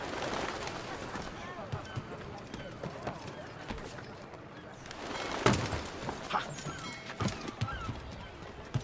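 Horses clip-clop in the video game Assassin's Creed 3, a busy patter of hooves mixed with neighs and city ambience, moderately near and steady throughout.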